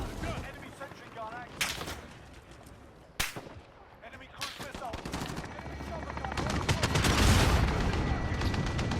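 Bursts of gunfire ring out in a video game as a weapon fires at aerial targets: sharp isolated shots, then a sustained rattling volley building toward the end, with a voice talking underneath.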